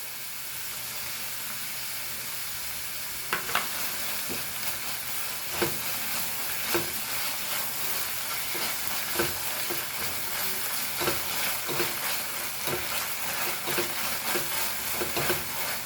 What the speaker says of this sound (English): Fry this and our ginger garlic paste.